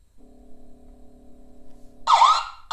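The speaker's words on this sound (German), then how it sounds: "Das ist der Alarm." An ICSee WiFi smart camera sounds its alarm siren: a steady electronic tone holds for about two seconds, then breaks into a loud warbling, sweeping siren wail.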